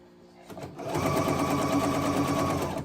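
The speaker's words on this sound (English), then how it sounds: "I'm just going to sew to the edge of the ties here." A sewing machine stitches along the edge of fabric ties, starting with a short rise and then settling into a loud, steady, close-up mechanical whir that continues to the end with no talking.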